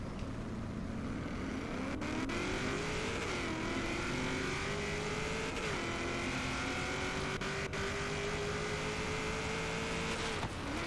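A 960-horsepower V8 in a 3,800-pound drag van, a Vandura, launches in Forza Horizon 3. The engine roars loud and continuous, its pitch climbing steadily, then dipping briefly at each gear shift before rising again.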